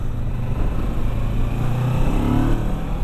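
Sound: motorcycle engine accelerating

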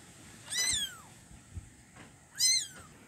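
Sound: kitten meowing

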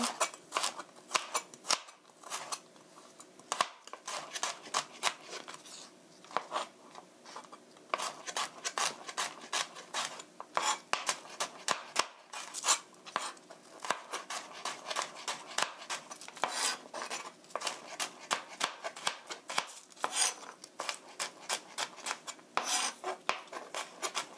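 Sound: knife julienne-slicing vegetables on a cutting board

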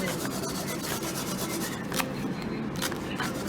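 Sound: garlic being grated on a grater

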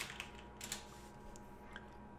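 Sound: typing on a computer keyboard

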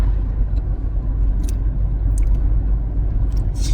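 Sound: car driving on the road

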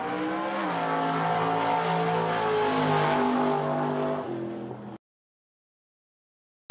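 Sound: muscle cars driving past, engine sounds

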